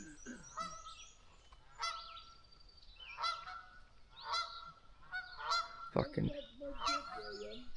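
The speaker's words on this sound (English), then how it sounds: "geese." Geese honk repeatedly at a campsite, loud, nasal calls overlapping in irregular bursts, with a single brief spoken word partway through.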